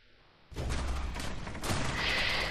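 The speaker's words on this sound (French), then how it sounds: "là je suis en train de me faire tirer dessus" Gunfire in the World War II shooter game Call of Duty: World at War, a sudden dense burst of shots and blasts starting abruptly and continuing as sustained rattling fire.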